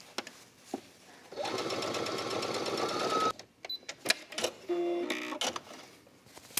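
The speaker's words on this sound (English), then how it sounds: "You do want to make sure you're sewing through all those layers that you just pinned together" Sewing machine stitching through quilted layers of a fabric tablet case, a buzzing mechanical run of about two seconds, then short stop-start bursts and handling clicks, close and moderately loud.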